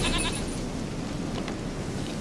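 A goat bleats in The Witcher III, a nasal wavering cry at the start that gives way to low steady ambient noise, fairly close and with no talk.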